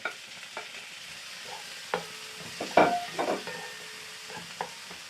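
Garlic, onion and tomato stir-frying in a pan: a quiet sizzle under repeated scraping stirs and clicks of a utensil against the pan, a few louder strokes in the middle.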